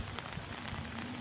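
Heavy rain pouring down in Ernakulam during a downpour, a dense, steady hiss of drops on surfaces that stays even and close throughout.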